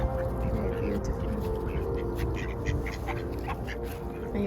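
Repeated quacks from ducks gathering near people on a winter outing in Sweden, fairly faint and scattered over a constant low rumble, with occasional soft voices nearby.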